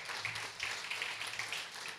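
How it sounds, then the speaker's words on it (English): An audience applauds Bill Little at a March 2017 event at the Stark Center, a steady faint patter of many hands clapping with no speech over it. "Give a round of applause to Bill"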